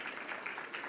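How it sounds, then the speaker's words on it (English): Faint applause from a panel discussion audience welcoming a speaker, a soft, even patter of many hands clapping at a distance, brief and without talking. "ladies and gentlemen, a round of applause for Elias"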